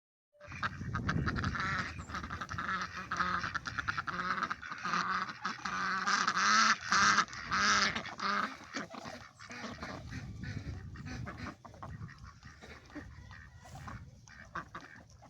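A small flock of runner ducks quacks and honks close by outdoors on a homestead, a busy, overlapping chorus that swells in the middle and thins toward the end.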